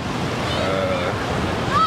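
Ocean surf at a crowded Hawaii beach, a steady wash of waves with wind buffeting the microphone throughout the short stretch.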